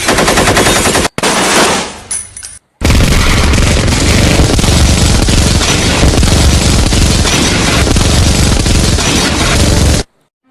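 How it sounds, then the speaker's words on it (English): Police open fire on a house in a loud burst of rapid automatic gunfire, with sharp repeated shots that break off briefly near the start and then roar on without pause before stopping abruptly. "Two police comes and shoot their house."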